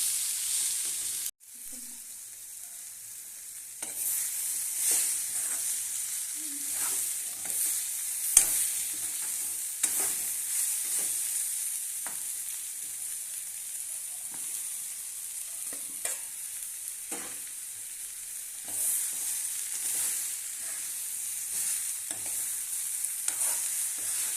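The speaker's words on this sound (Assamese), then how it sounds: "এতিয়া মই ইয়াতে দিম চজিনাখিনি দি ভালকৈ অকণমান লৰাই ধুনীয়াকৈ" Steady sizzling and crackling of drumsticks stir-frying in a pan, with periodic scraping and clinks as they are stirred, continuous throughout.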